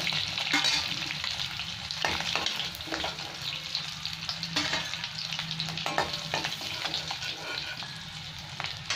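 Potato pieces fry in hot oil in a pan on a Bengali home stove, a dense continuous sizzle with occasional stirring clatters and scrapes close to the microphone, no one speaking.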